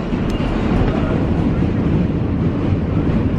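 A New York City subway train rumbles past in a dense, continuous low roar, loud and near, with a steady rushing wash and no clear breaks.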